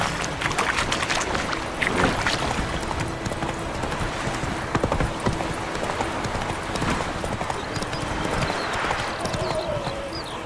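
Horse galloping in The Witcher 3: Wild Hunt, a steady fast rhythm of hoofbeats that runs continuously throughout, with a brief voice heard over the game sounds.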